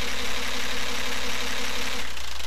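Camshaftless engine with electronically controlled valves, running as a loud continuous mechanical hum and whir, with a slight change near the end as it begins shutting down.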